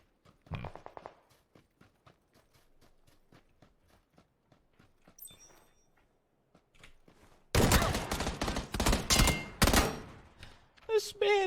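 Gunfire in the PUBG video game: after faint footsteps and scattered quiet sounds, loud rapid bursts of automatic shots erupt close by and crackle for several seconds, with someone talking briefly.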